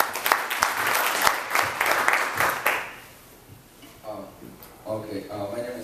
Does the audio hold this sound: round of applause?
yes